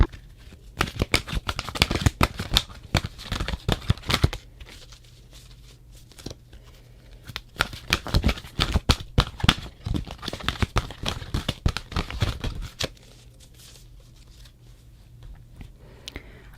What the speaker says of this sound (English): You can think of your question while I shuffle